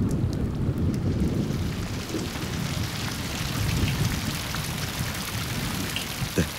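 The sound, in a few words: heavy summer storm rain with thunder over woodland stream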